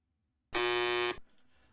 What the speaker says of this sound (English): Go ahead and try your buzzer, please